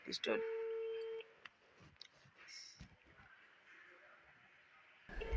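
A phone call's ringing signal on a mobile, set to loudspeaker, gives a steady tone followed by faint clicks, with a few brief voices in the background.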